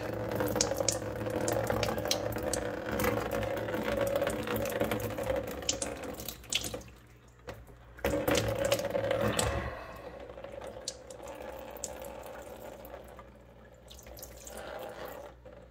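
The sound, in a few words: basement fountain pump running, water flowing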